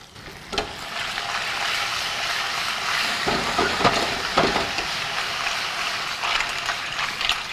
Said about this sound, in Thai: พอน้ำมันร้อนดีแล้วนะครับ หอยลายครับ